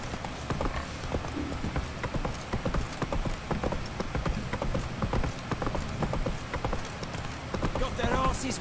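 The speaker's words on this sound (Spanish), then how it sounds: "¿por qué voy a caballo a todos lados?" Steady clip-clop of horse hooves while riding across terrain in the video game The Witcher 3, a continuous close rhythm running throughout at an even volume.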